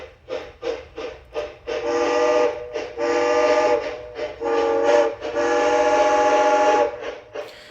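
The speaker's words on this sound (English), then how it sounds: "The beautiful recording of the J3's whistle is really outstanding." A model train sound decoder plays a New York Central J3 Hudson steam whistle: a few quick toots, then longer sustained blasts, loud and close, with short gaps between them.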